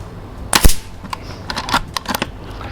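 A single sharp, close crack of an FX Wildcat MK2 air rifle firing at a 20 m target, followed by faint clicks and handling noises.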